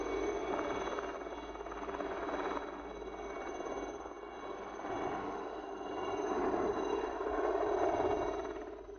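A rescue helicopter in flight during a mountain winch operation, its rotor and engine producing a continuous, muffled drone that rises and falls gently in loudness, heard alone without speech.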